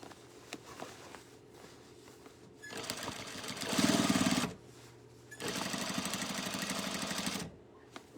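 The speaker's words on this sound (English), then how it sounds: "Just the edge I'm sewing down." A sewing machine runs in two bursts while stitching down the edge of a tote bag, its rapid needle chatter close and steady between quiet pauses.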